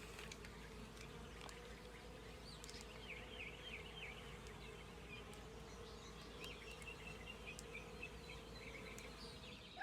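Honey bees buzzing steadily at low volume, a continuous droning hum from several insects close by with faint background ambience.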